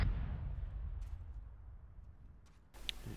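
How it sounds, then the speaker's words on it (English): A distant explosion in a town in the military video game Arma 3 booms as a low, rolling rumble that slowly fades, followed by a short burst of sharper noise. "There's an explosion in the town southeast."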